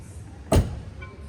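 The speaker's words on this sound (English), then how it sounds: "let me close this door up" A door on a 2023 McLaren GT grand touring supercar shuts with a single close, solid thud, followed by a short fading rumble.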